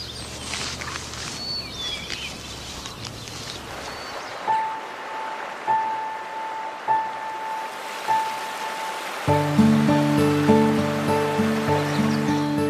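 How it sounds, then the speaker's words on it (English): Spring meltwater flowing on the upper Mississippi, a steady broad wash of running water with faint ringing tones and soft repeated knocks, rising to a fuller layered sound near the end. "Water flows again at last."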